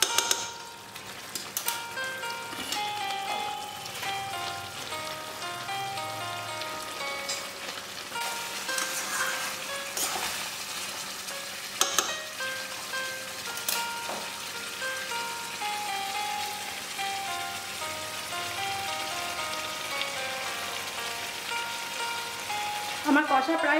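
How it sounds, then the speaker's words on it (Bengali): Mutton curry with potatoes is sautéed in oil, a soft steady sizzle with scattered clinks and scrapes of stirring running throughout, and a melodic tone faintly underneath. "আমি আরও কিছুক্ষণ কষিয়ে নেব"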